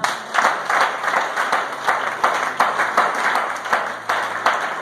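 A church congregation applauds, a dense sustained clapping from many hands that pulses slightly in rhythm, moderately loud and filling the room.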